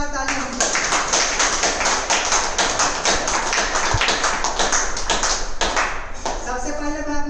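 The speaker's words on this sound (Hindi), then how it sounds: "अच्छे के लिए जोरदार ताली होनी चाहिए।" An audience at a DXN product training session gives a burst of vigorous applause. Dense, steady clapping fills several seconds between brief spoken voices at the start and end.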